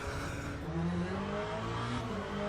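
A Corvette V8 race car engine in the racing game Le Mans Ultimate at Portimao roars steadily at high revs, a buzzing, wasp-like strained drone with slight pitch shifts as it accelerates.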